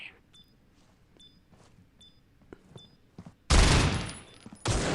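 Gunfire in the mobile shooter Critical Ops during a tournament match: scattered light shots and beeps give way to two loud, dense bursts of automatic fire near the end.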